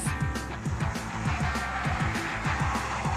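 An engine revs in repeated rising sweeps over a continuous screeching, skidding roar of tyres as a car drifts, loud and close throughout.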